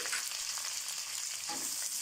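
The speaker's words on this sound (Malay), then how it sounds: "kita goreng kejap saja ya" Garlic, onion and bird's eye chili frying in hot oil, a steady, even sizzle with a few stirring scrapes, close and continuous.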